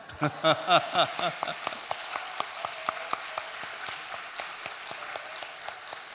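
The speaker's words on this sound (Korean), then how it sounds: "우리 교회 장로님들도 한번 우리 박수 쳐주시죠." A church congregation bursts into applause during a worship service, loud rapid clapping at first that thins out into scattered, fading claps.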